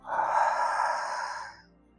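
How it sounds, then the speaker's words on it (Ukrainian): A slow, relaxed exhale like a soft breathy 'ha' during a Wim Hof-style breathing exercise, a single close breath lasting about a second and a half before trailing into silence. "Видих, розслаблення, наче звук ха."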